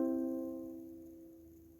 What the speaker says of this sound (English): C sounds like this.